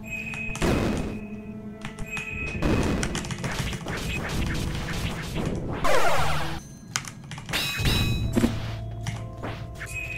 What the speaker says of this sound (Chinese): 爆炸炸弹都来了